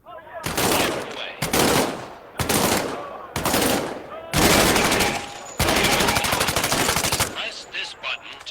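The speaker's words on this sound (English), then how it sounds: "Reach over your shoulder and grab your M1A1 submachine gun. Fire away." An M1A1 submachine gun in the VR game Medal of Honor: Above and Beyond fires in about six loud, close bursts of rapid automatic shots separated by brief pauses, the last trailing off quieter.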